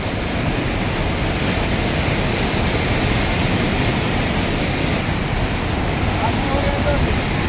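The flooded Ghod river rushes in a loud, unbroken roar, a dense wall of churning water noise that holds steady from start to finish.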